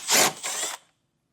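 A power tool spins briefly to remove a 10mm nut during a trailer hitch installation on a 2024 Volkswagen, two quick close whirring bursts before it stops.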